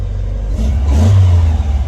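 A 1926 Willys Roadster Pickup engine revs once from inside the cab, a loud, close mid-pitched vroom that swells and then eases back.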